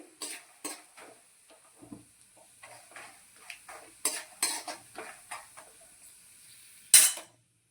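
A spoon scrapes and taps against a pan while dry fruits, almonds among them, fry lightly in ghee for gundar pak; sparse clinks over a faint background sizzle, one louder knock near the end.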